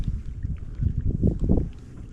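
Strong wind buffets the microphone on a boat out on a lake during crappie fishing in deep water, a low, gusty rumble that swells and fades in uneven surges.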